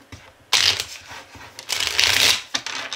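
Tarot cards being shuffled by hand in two long riffling bursts, crisp papery swishes close to the microphone with a brief pause between them and no talking.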